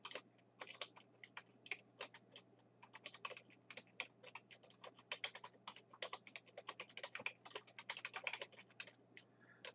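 Quiet computer keyboard typing while entering text into an Excel spreadsheet: irregular bursts of light clicking keystrokes, close and steady, over a faint constant hum, no speech.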